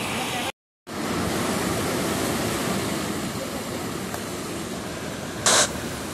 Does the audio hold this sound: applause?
no